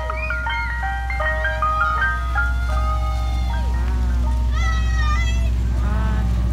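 A Tasty Frosty ice cream truck plays its tinkling chime melody loudly and close by, the jingle rising and falling over a steady low engine rumble, with faint voices in the background.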